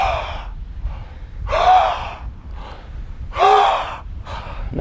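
Deep, deliberate breaths during a guided breathing exercise in a workout session, drawn in and pushed out in a slow repeating rhythm of about five or six breaths, close and fairly loud, with no talking.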